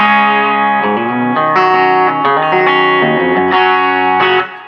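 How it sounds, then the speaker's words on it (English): Electric guitar through a compressor pedal and a Quilter SuperBlock UK amp plays a steady, sustained melody with smooth, even notes and a slightly compressed, rounded tone, heard alone without voices. "I like the compressor on. It just gives me a little bit of roundness to my notes"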